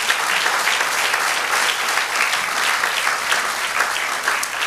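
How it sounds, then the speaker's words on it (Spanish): A church congregation applauds, a steady, dense roll of many hands clapping that stays loud and even from start to finish, without speech on top. "Denle un aplauso al Señor por eso."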